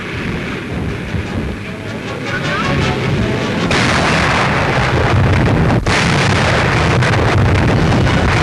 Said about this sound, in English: you will see salvos from the Bismarck failing to hit one of our battleships